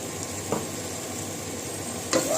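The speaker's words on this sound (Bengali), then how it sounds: "এই যে মেথি শাকটাকে ভালো করে ধুয়ে কুচিয়ে রেখেছি, তো আমি এর মধ্যে দিয়ে দিলাম" Chopped fenugreek leaves tipped into a hot pan for methi chicken give a steady low sizzle, with two brief soft stirring scrapes standing out near the start and end.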